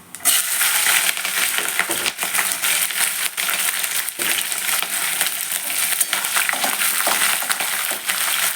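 Peanuts and green chillies frying in a pan for ginger rice, a dense continuous crackle and sizzle with scattered sharp pops, loud and close throughout.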